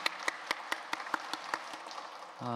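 Church congregation applauding at a Thanksgiving Sunday service, a short burst of quick, evenly spaced claps that fades before a voice begins at the very end.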